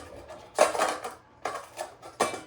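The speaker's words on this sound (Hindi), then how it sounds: "ये 2 प्लेट हैं और ये सारा स्पून वगैरह सारी चीज़ें हैं।" Decathlon camping utensils, plates and spoons clatter and clink as they are handled, in three or four short bursts of light metallic rattling separated by quiet pauses, close to the microphone.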